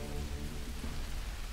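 Heavy rain pours steadily in the Grand Theft Auto San Andreas remaster, a dense, continuous hiss with low rumble that stays loud and even throughout, with no voices over it.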